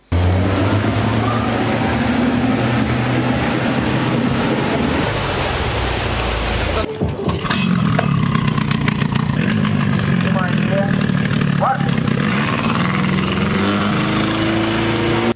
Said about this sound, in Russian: Катера, байдарки, гидроциклы.